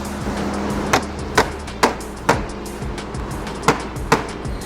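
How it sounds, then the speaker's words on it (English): Sharp metallic knocks and clunks from fitting the front bumper onto a wrecked 2022 Range Rover Sport under rebuild, six spaced impacts over a low background hum, close by with no talking. "Just installed the front bumper"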